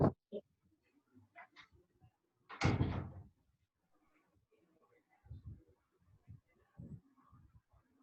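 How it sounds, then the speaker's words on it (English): Doors being shut in a lecture room: one loud, close thud stands out, with quieter knocks and handling around it and scattered soft voices. "I'll just close the doors also."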